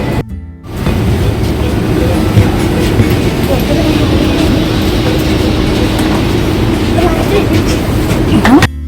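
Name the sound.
train travelling from Zurich to Paris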